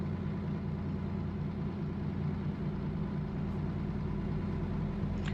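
A Peterbilt truck engine idles in the video game American Truck Simulator with a deep, steady, constant low rumble and droning hum, unchanging throughout.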